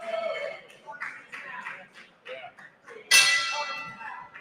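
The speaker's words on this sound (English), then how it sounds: "And there's the bell for round number 1." At an amateur boxing event, a boxing bell rings once with a bright metallic strike marking round one, cutting through crowd murmur and nearby chatter.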